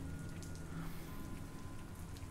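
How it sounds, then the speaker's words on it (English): Steady rain falls all around, a dense continuous patter on surfaces with a low rumble underneath, constant and fairly loud with no talking. "God, this fucking rain, dude."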